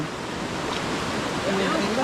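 A rising river in flood rushes as a steady broadband roar, loud and continuous, with a voice faintly audible underneath.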